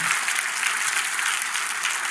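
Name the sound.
congregation applauding for Jesus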